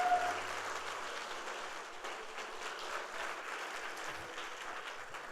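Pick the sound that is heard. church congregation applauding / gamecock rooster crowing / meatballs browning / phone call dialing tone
church congregation applauding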